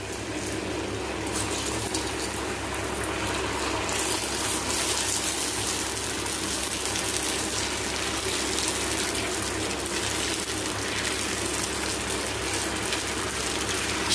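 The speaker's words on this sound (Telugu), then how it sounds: "ఇప్పుడు మనం పునుగులు వేసుకుందాం." Punugulu fritters made from idli batter frying in hot oil, a dense continuous sizzle and bubbling hiss that holds steady and close throughout without letting up.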